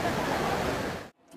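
A waterfall in Argentina sends up a steady, loud, broadband roar of rushing water that fills the scene, then cuts off abruptly near the end.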